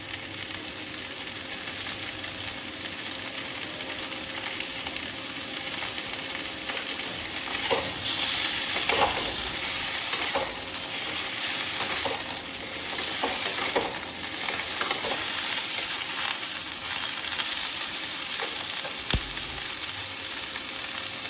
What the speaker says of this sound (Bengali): আমার কপি ভাজা হয়ে গেছে